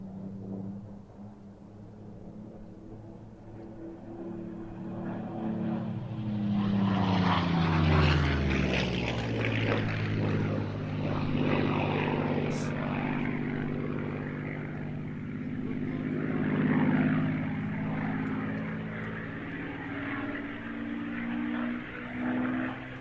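A Spitfire propeller aircraft passes close by, its piston engine droning loud and steady and rising in pitch as it approaches, then holding a sustained roar that eases slightly and swells again, with no talk over it.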